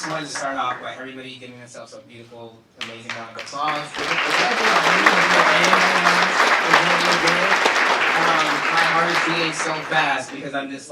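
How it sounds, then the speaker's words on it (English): An audience applauds at a talk on trans stories, loud sustained clapping and cheering that swells after a few seconds of a voice speaking and carries on strongly to the end. "everybody giving themselves a beautiful, amazing round of applause"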